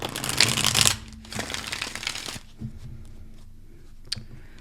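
Two quick bursts of tarot cards being shuffled, crisp papery riffling close by, followed by quieter handling and a soft tap.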